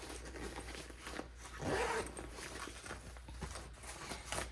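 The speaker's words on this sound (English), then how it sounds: "It also has these little zipper pouches." The zipper of a small pouch on a Level 8 Luminous textured luggage case, pulled in quick rasping strokes with soft fabric rustling and a brief louder burst midway. The sound is close and quiet, with no talking.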